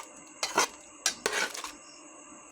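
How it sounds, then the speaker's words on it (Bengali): Utensil scraping and clinking in a pot while quail egg curry with ginger-cumin paste is stirred, two short bursts of metallic scraping close up, with quiet pauses between. "এবার আমি ভালো করে নেড়ে দেব।"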